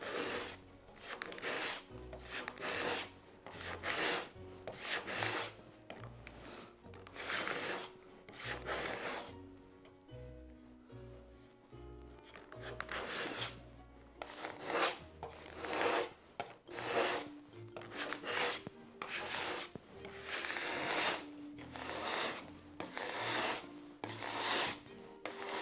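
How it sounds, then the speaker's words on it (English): Wood on a door being restored is sanded by hand with sandpaper, giving repeated rasping rubbing strokes in irregular bursts, close and steady over a long stretch with a brief pause midway, no talking. "I can finish it off with sandpaper"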